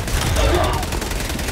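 Gunfire from a video game rattles in dense, continuous bursts for about a second and a half, fairly loud and steady, with a voice partly mixed in.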